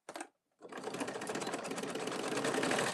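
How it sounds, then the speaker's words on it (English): Sewing machine stitching down a full-size top-handle tote bag, a brief whir, a short gap, then a continuous loud buzzing run, close and alone. "place it under, sew it down."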